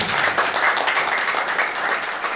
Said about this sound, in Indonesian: Tepuk tangan dulu yang terbaik.